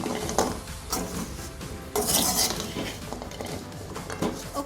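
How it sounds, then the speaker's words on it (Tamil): Idli manchurian being tossed with seasoning mix in a pan, with irregular clinks and scrapes of a utensil against the pan and a louder burst of clattering midway, no talk. "இதை எல்லாத்தையும் நல்லா மிக்ஸ் பண்ணிக்கொள்ளுங்க"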